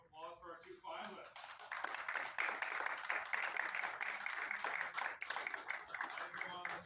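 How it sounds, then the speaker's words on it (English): A crowd at a snooker tournament final bursts into sustained applause and clapping that swells and carries on, with cheering voices mixed in. "Can we give a round of applause for our two finalists?"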